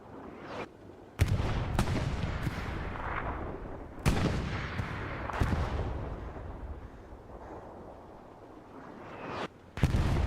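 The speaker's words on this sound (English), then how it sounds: "the artillery here for CEL already coming big, getting a few kills already" Artillery fire in a 35 vs 35 online multiplayer battle game match: repeated heavy booming blasts in irregular bursts, some close and loud, others trailing off into rumbling echoes, with no talk.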